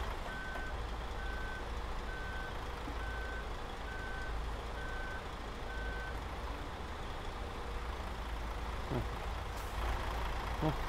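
An Irizar i8 bus reversing in Euro Truck Simulator 2, with an evenly spaced backup beep repeating steadily over a low rumbling engine idle, then an air-brake hiss near the end.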